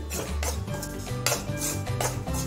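Semolina roasting in a pan for rava sanjori, stirred with a utensil: a continuous run of rhythmic scraping and clinking of metal against the pan, close and fairly loud.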